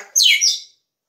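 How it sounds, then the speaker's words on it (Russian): A pet bird gives one short bright chirp, loud and close, a quick rising-falling tweet that stops abruptly into silence. "Хорошая птица."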